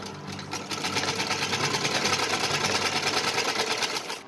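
A sewing machine stitches a straight seam on folded fabric for a small summer night suit, running with a fast, even mechanical patter that holds steady and close for several seconds.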